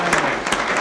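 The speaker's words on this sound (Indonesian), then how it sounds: "Oke, kita tepuk tangan sekali lagi." A studio audience at an Indonesian comedy talk show claps in a short, dense burst of applause.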